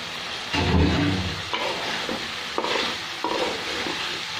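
Vegetables stirred and sautéing in a hot pan for a Bengali home-cooked dish, a soft sizzle punctuated by several scraping stirs of a spoon.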